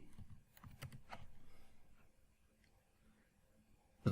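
Light typing on a computer keyboard, a few quick clustered keystrokes near the start that thin out into quieter taps, close and faint with no voices.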